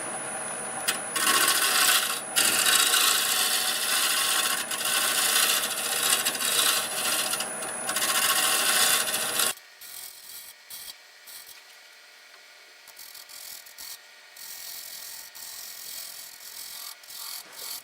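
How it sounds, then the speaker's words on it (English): Wood turning on a lathe with a square carbide tool shear scraping the spinning workpiece, a loud, steady rasping scrape for several seconds that cuts off abruptly, leaving a faint lathe hum with light intermittent scratches. "A little shear scraping"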